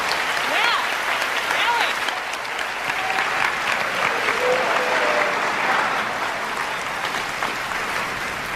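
An audience claps steadily throughout, a dense, continuous wash of applause from a crowd at a beauty pageant, with faint voices and the odd whoop rising above it.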